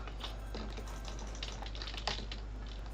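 Quiet computer keyboard key presses, reloading in a video game, a few faint soft clicks scattered over a steady low hum with no talking.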